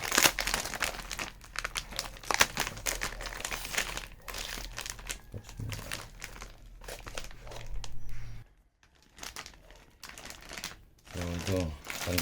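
Tape being peeled off the plastic packaging of a car plate holder, close crinkling, crackling and tearing noises that come in bursts with brief pauses, while a person speaks in between.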